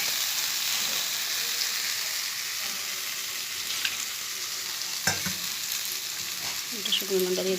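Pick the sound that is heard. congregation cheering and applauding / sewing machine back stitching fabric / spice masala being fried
spice masala being fried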